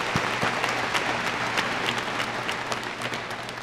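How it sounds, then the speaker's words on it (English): Audience at a high school graduation ceremony applauding the advisors, steady dense clapping from a large crowd, moderately distant and sustained throughout. "so please give them a round of applause."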